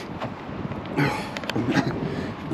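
Wind buffets the microphone of a DUOTTS C29 e-bike while it rides along a track, a steady broadband rush with gusty swells that bring louder roaring bursts near the middle of the ride.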